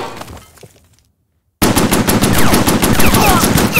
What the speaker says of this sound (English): I'm taking machine gun fire!